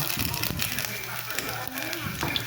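Ginger sizzling in hot cooking oil in a pan, a dense steady crackling hiss close up, while a person talks over it.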